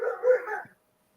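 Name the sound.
dog barking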